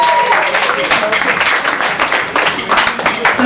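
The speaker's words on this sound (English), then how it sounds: "give a round of applause for yourself first off" Audience applause at a live event in a club venue, dense steady clapping from a crowd, close and sustained for the whole stretch.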